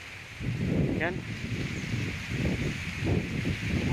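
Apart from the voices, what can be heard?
strong monsoon wind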